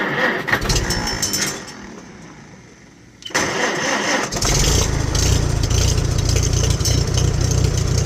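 An old tractor's starter cranks at length after a rain storm, pauses briefly in near quiet, then the engine catches and settles into a loud, steady running rumble.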